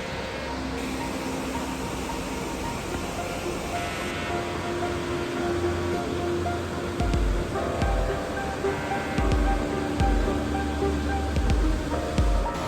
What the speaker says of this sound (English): There's literally a waterfall behind your room.